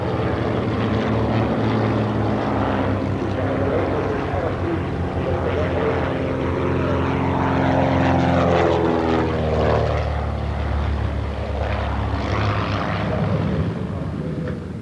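Fokker demonstration team aircraft performing aerobatics over Eindhoven, a loud, steady propeller-engine drone with pitch shifting as the planes pass, a voice talking over it.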